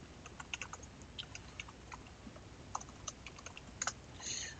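Quiet, irregular clicking of computer keyboard typing, a scattered run of light keystrokes over a steady background hiss, with no voices.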